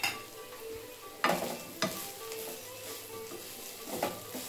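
Coriander powder, cumin powder and garam masala stirred into plantain frying in a pan, a steady low sizzle broken by a few sharp scrapes and clinks of the spoon, close and moderately loud with no talking.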